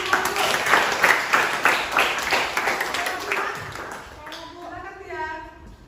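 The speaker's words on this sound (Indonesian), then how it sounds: "Oke, tepuk tangan." A classroom group claps in a burst of applause that gradually thins and fades, with a few voices chattering underneath toward the end.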